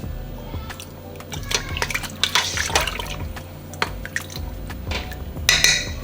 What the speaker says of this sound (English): So we're gonna do about 1/2 cup of fish sauce.